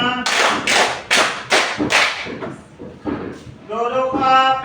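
A class of pupils claps in unison along to a counted chant, four or five loud sharp group claps in steady rhythm, then a voice speaking and a short sung phrase at the end.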